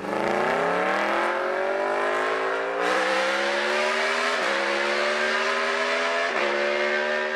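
Aprilia V4 motorcycle engine revving hard and continuously, its pitch climbing steadily with brief dips at about three points, loud and close with no talking.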